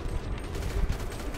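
Gunfire crackles in GTA Online during a Doomsday heist setup: a quick, fairly quiet spatter of shots that sounds slightly distant, in a brief burst.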